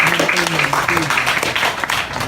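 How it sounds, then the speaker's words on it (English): A workshop audience of freelancers claps briefly while a voice keeps talking over the applause throughout. "So we'll give him a round of applause."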